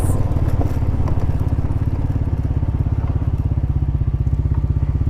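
A quad bike (ATV) engine while riding, chugging with a fast, even low-pitched pulse that stays loud and close throughout.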